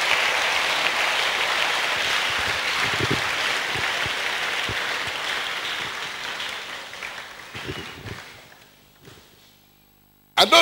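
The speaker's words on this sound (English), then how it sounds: "Give them one more clap of hands to go back to their seats." A church congregation claps hands in sustained applause that gradually tapers off and stops, followed by a few scattered footsteps and knocks as people return to their seats.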